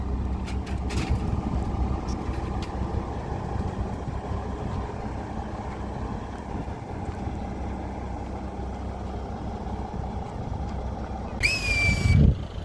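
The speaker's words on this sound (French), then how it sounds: "C'était klaxon." A vehicle horn sounds in a short, loud burst at the very end, over steady traffic and engine rumble from passing buses and cars on a street.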